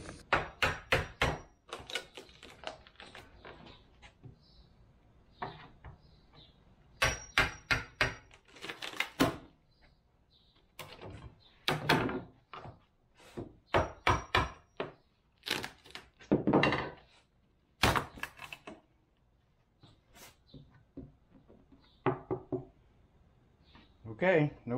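A rigid fiberglass and 3/8 plywood holding tank is banged apart by hand: loud, sharp irregular knocks and cracking thumps come in bursts, with pauses and someone talking between strikes.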